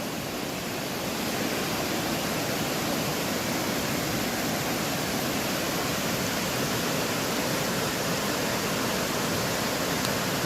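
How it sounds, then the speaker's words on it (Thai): A waterfall in Kanchanaburi, Thailand roars continuously at a moderate distance, an even hiss of falling water with no other sounds. "นอนฟังเสียงน้ำตกทั้งคืนเลย"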